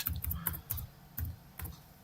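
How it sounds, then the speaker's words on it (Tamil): Computer keyboard typing during graphic design work, a handful of quick, crisp clicks in short bursts with pauses, fairly quiet and close. "அப்படின்னு டைப் பண்ணி அடிக்கிறேன்."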